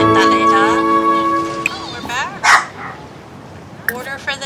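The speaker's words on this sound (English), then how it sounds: "And my dog's barking." A pet dog gives a few sharp barks and yips in a home, close by, mixed with a person talking and video game music.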